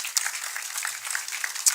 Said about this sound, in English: To applause, rapturous applause please